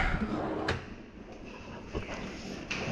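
A modular kitchen cabinet drawer, part of a fitted kitchen with a synthetic quartz countertop, slides and knocks shut in a couple of short, close thuds over faint room noise.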